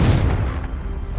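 A Confringo blasting spell going off in Hogwarts Legacy, a loud low boom right at the start that decays into a rumbling tail over about a second, with no talking.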